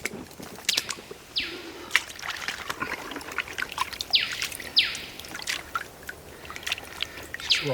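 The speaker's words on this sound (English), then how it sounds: "Just wash these big rocks." Water trickles and splashes while big rocks are rinsed during beginner gold panning at Kirkconnell, with birds chirping nearby and occasional sharp clinks of stone, fairly faint outdoors.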